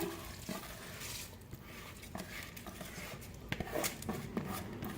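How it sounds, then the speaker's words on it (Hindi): 600 grams of soaked rice tipped into a pot of boiling water for green moong dal khichdi, giving soft watery splashes and faint bubbling, quiet and close, with no one talking. "अब हम चावल ऐड करेंगे।"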